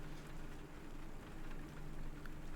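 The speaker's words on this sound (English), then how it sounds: "as long as he had the sound of the rain to soothe him" Steady, soft rain hisses evenly throughout, a gentle continuous patter with no voices, set as ambient rain in the visual novel game Mahoyo.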